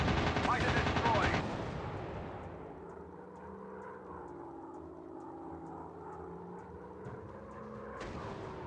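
Fighter plane guns fire in a WW2 dogfight game, a loud dense burst of rapid shots at the start, then a lingering engine drone with a whooshing sweep and another short burst at the end.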